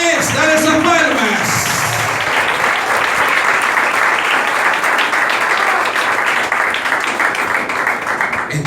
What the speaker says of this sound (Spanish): Dale esas palmas.